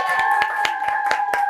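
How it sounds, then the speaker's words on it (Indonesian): Rhythmic hand clapping from a small group during a class reading of Acehnese hikayat, with about seven evenly spaced claps over a steady tonal drone, close and moderately loud. "tepuk tangan yuk"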